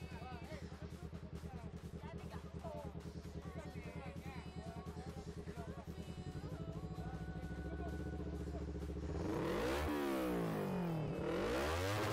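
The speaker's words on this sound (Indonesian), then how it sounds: "motornya yang pakai knalpot racing yang suaranya kenceng banget" A motorcycle with a loud racing exhaust idles with a rough, throbbing rumble, then revs hard near the end, with talking over it.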